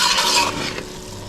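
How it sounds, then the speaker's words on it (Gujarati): Gram flour roasting in ghee for mohanthal is stirred continuously over low heat, giving a brief, close scraping and soft sizzling stir. "આને આપણે એક ધારું હલાવતા જ રહેવાનું છે અને ઘી છૂટું પડશે અને ગુલાબી કલર થઈ જશે ત્યાં સુધી આપણે એને ધીમા તાપે હલાવવાનું છે"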